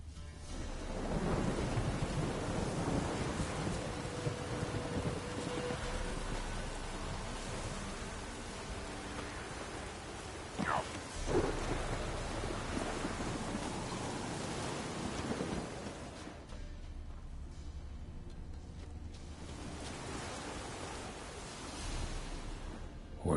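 A thunderstorm in the game The Witcher 3 rumbles with steady rain and a broad noisy roar, sharp thunder cracks near the middle, then a quieter rain-filled stretch before the rumble swells again, with no voices.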